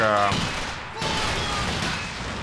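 Gunfire in the strategy game Company of Heroes 2 as troops shoot at a tank, a dense continuous fusillade of distant rifle and machine-gun fire with a voice talking over it.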